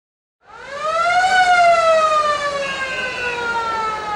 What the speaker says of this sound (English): There's the siren to start the final term.